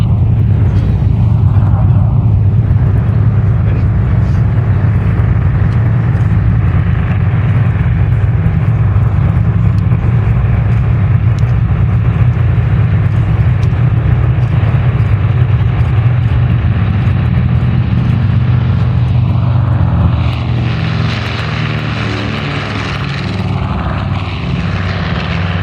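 The WWII aircraft Panchito roars past at an air show with a steady, loud propeller-engine drone that swells and shifts as it passes, with crowd and announcer noise in the background.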